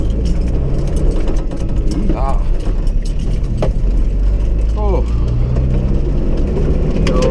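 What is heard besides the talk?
Toyota Hilux driving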